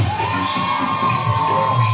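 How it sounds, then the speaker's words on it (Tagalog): A crowd at a Thanksgiving party singing contest cheers and shouts in a loud, brief burst of whoops and yells, with a steady tone running underneath. "Kung ready na, pwede bang isang hiyawan dyan?"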